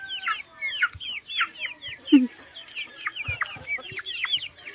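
Chickens and small chicks cluck and cheep at a backyard coop in the afternoon while eating kangkong, a busy run of high chirps with occasional lower clucks close by, no talking.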